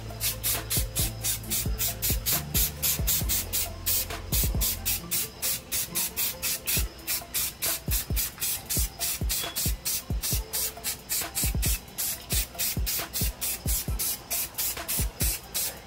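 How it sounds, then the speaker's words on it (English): Apple red spray paint is spritzed across a canvas in a long run of short, sharp hissing bursts, each a quick pulse, close and repeated in an uneven rhythm with no voices. "we're gonna hit it with some of this apple red, but we're gonna spritz it"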